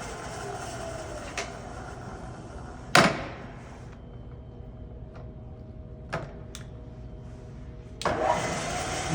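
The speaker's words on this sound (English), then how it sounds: "Now we are changing to high gear." A Trak DPM CNC vertical bed mill with a ProtoTrak MX3 control shifts into high gear. A steady machine hum is broken by a few sharp mechanical clunks and a louder whir near the end, with no voices.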